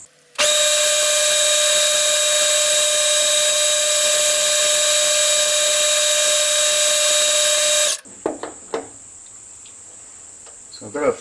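A drill bores a hole for a 4BA thread in a Stuart Turner No. 8 mill engine part, giving a loud, steady high-pitched whine for about seven seconds before stopping, followed by a few faint clicks and handling noises.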